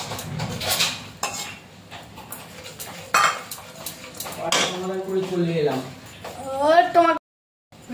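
A spoon scraping and clinking against a cooking pan while a cashew and poppy seed paste is stirred, with intermittent metallic taps under continuous talking by a woman.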